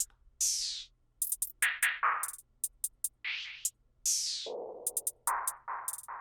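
Programmed hi-hat pattern from an FL Studio beat, sounding as crisp, bright, rhythmic hits and short rolls over a sparse electronic arrangement with other synth stabs, no voices.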